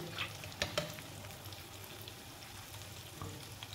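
Chana dal laddoos frying in oil in a kadhai, a steady soft sizzle with a few sharp clinks and scrapes of a spoon turning them near the start, no talking.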